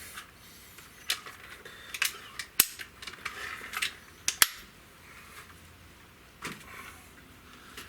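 A Umarex Synergis .177 multi-shot gas-piston air rifle fired from bipods, several sharp, close cracks spaced a second or two apart, with quieter mechanical clicks between shots.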